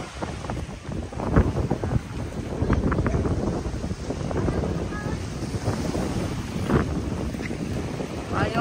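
Strong wind buffets the microphone by the sea during a storm, and big waves crash and churn underneath it. The roar is loud and continuous, with gusts that rise and fall irregularly.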